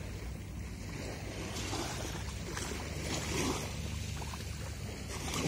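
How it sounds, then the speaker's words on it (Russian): Sea waves of the incoming tide wash up on the shore of Phi Phi, a broad continuous surf hiss that swells slightly toward the end, with no talking. "Вот сейчас должна быть волна."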